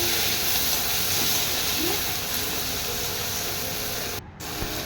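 Mushroom and capsicum sautéing in a pan, a steady broad sizzle and hiss that runs continuously, with a brief dip near the end.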